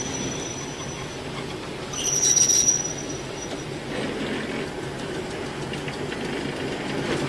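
An electric multiple unit train on a DC line rolls slowly toward a stationary train, its steady rumble joined by a brief high wheel squeal, moderately near, with no voices.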